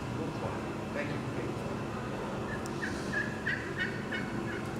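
A person imitates turkeys calling as they wake up, making a run of soft, quick gobbling and clucking notes over a steady background hum.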